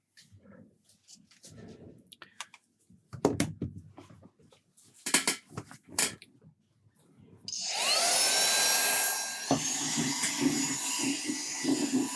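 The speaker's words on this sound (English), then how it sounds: "So let's get that mini hoover." A mini handheld hoover vacuum cleaner is picked up with a few light knocks and clatters, then switches on with a rising whine and settles into a loud, steady whirring roar that lasts to the end.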